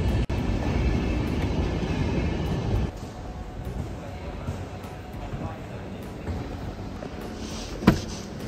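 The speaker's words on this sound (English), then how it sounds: "So now I'm here in Helsinki train station," A train running through Helsinki train station, a loud rumbling roll with faint rail clatter that eases after a few seconds, followed by a sharp clunk near the end, with a person speaking over it.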